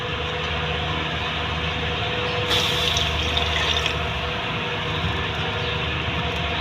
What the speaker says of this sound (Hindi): अब इसमें डालूंगी मैं पानी 1 गिलास